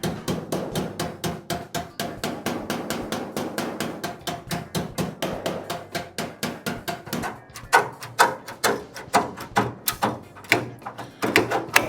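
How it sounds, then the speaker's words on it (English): Metal panel on a 1938 Cadillac door being struck with a hammer, a steady run of sharp, ringing blows, close and loud, with the strikes getting heavier and more spaced toward the end. "I'm gonna bring this down a little with the hammer."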